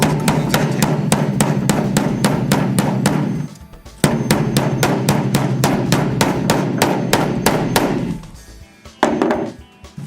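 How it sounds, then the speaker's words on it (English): A hammer strikes the ears of a stainless steel band clamp buckle in rapid, evenly spaced metallic blows, loud and close, with brief pauses near four and eight seconds before the hammering resumes. "we're going to hammer down the ears of the buckle to complete that"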